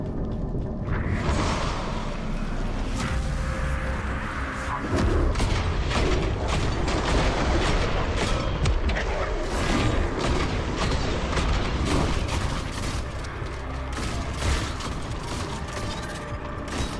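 Shotgun fire in the video game Armatus: dense mechanical clacks, racking and booming blasts in steady succession over a loud, busy game soundscape, with no voices.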